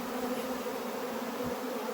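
Dense, steady buzzing of a honeybee swarm on a quince tree, loud and close, continuous without pause.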